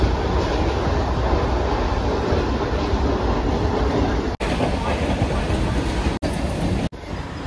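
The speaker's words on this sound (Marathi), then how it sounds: "आता आपली ट्रेन येईल आणि गर्दी बघा किती आहे" A crowded Mumbai suburban local train bound for Vasai rumbles along in a steady, loud roar with faint rail rattle, broken by a few brief dropouts, with no talk heard.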